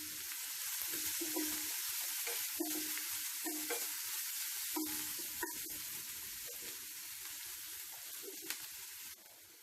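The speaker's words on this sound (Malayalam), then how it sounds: "നമ്മുടെ ഉള്ളിയൊക്കെ ഏകദേശം വഴന്നു വന്നിട്ടുണ്ട്" Onions and ginger sauté in a pan for chicken kappa cutlet, a constant quiet sizzle under repeated scraping stirs of a spoon against the pan, fairly close.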